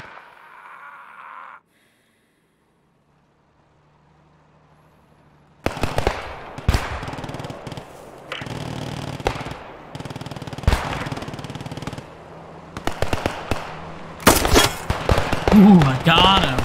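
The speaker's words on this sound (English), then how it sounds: "there's a machine gunner in the three story" Machine gun fire in Post Scriptum, a World War II shooter: bursts of rapid shots crackle near and far after a quiet stretch, with a louder flurry near the end and voices faintly underneath.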